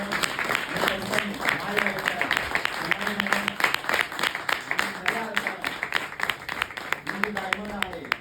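Applause rises from an audience gathered for a motivational business talk, scattered hand claps running steadily for several seconds while voices and talking carry on over the clapping.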